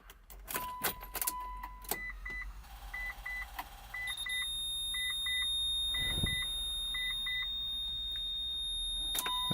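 Mitsubishi Evo 9 with an upgraded fuel line being primed from inside the car: key jingles, repeated dashboard chimes and pulsing beeps, then a steady high electronic whine over low cabin hum, with a soft thud near the end.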